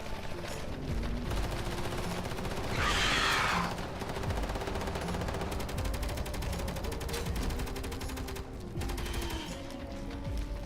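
Automatic turret gunfire aimed at spiders in the video game Space Engineers, a steady rattling stream of shots running for the length of the scene, with a brief louder burst partway through and other game noise underneath.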